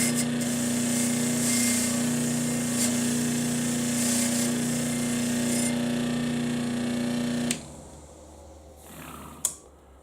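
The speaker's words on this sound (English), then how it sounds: "I've just been cleaning up this hardware on this slow-speed wire wheel." A slow-speed wire wheel scrubs steel hardware from an old Palmgren angle vise, a steady motor hum with a bright bristly hiss that cuts off abruptly near the end, leaving a quiet room and one sharp clank.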